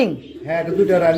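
Domestic pigeons coo on a farm, a low soft warbling call rising and falling over about a second, close by, with someone talking over it.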